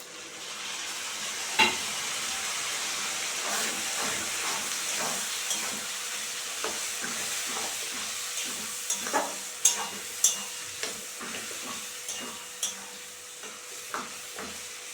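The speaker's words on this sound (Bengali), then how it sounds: "এখন আমি আদা রসুন লঙ্কা আর একটা পেঁয়াজ বেটে রেখেছি, সেটা দিয়ে দিলাম।" A paste of ginger, garlic, chilli and onion frying with onions for a chicken dish gives a steady close sizzle, with intermittent scraping clicks from stirring that come more often toward the end.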